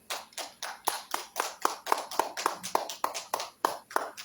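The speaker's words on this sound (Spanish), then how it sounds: "La recibimos, por favor, con fuertes aplausos" Audience applause at a legal seminar on gender and criminal procedure welcoming a speaker, heard as a steady series of distinct, fairly close claps that stays moderately loud throughout.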